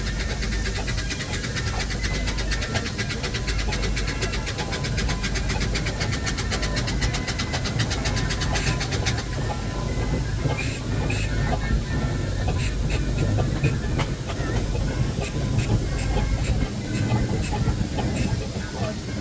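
A steam road locomotive, rebuilt from an earlier engine, runs at the West of England steam rally, giving a steady, loud mechanical chug and hiss over a continuous outdoor crowd background.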